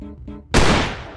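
A single loud, sharp gunshot fires during Russian roulette in the VR video game Bonelab, following a brief voiced sound and trailing into a short echoing decay.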